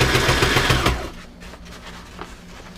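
A sewing machine stitches a cushion, running loud and fast for about a second, then stopping. A few faint mechanical clicks follow as the fabric is turned at a corner.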